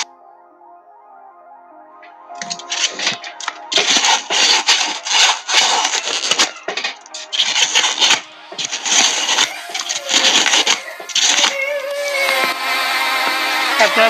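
Hand tool boring and rasping holes into a small toy robot part, giving close, loud bursts of scraping and grinding strokes with brief pauses, no talk.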